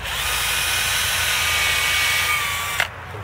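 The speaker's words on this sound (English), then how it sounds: "We're going to drill my 11/64 inch hole." A power drill bores an 11/64 inch hole into a tree trunk for inoculation, a steady high whine with a grinding undertone, close and continuous, stopping abruptly near the end.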